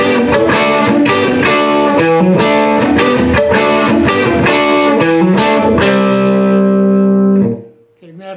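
Heavily distorted electric guitar chugs through the rhythm after the solo in a song, driving repeated strummed chords that end on a ringing held chord before cutting off, loud and close.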